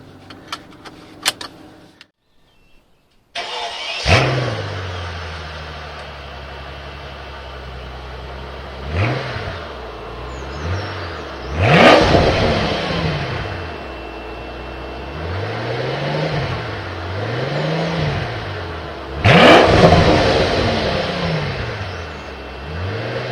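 A Mercedes SL600 with a V12 bi-turbo engine starts from idle and pulls through several rising, falling surges of acceleration on the road, building to loud revving bursts between steadier cruising hum, heard from inside the car.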